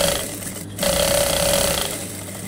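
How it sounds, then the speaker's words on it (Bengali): A sewing machine stitches a cord for a decorative neckline design, giving a steady whirring hum of about a second over a noisy background. "এখানে ডিজাইন করার জন্য প্রথমে আমি ডুরি সেলাই করে নিচ্ছি।"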